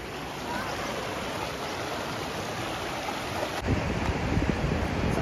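A river flowing in the open outdoors makes a steady rushing wash of water mixed with wind noise on the microphone, growing louder and closer in the last second and a half, with no talking.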